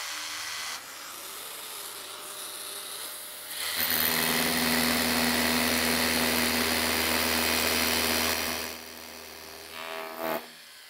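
A light 18 V hammer drill starts up with a dust extraction attachment fitted, then bores into a concrete block for several seconds as a loud, steady, high-pitched whir with gritty grinding underneath, before stopping.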